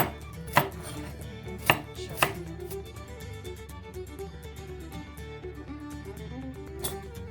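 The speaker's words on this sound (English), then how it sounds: "And just cut them roughly up." Vegetables for a vegan Irish stew are roughly chopped on a board, with a few sharp knife strikes standing out over a steady run of quieter, quick cutting taps.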